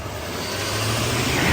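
A new pickup shop truck's engine roars steadily as it accelerates hard enough to break the tires loose. The broadband rumble is loud and close and builds slightly over its short span, with no talking.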